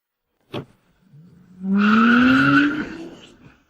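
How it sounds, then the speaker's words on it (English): A car engine roars up loudly after a brief sharp knock, with tires squealing and skidding as it revs, the sound rising and then fading over a few seconds, close and dominant with no talk. "Suddenly, a deafening engine roar blasted from downstairs."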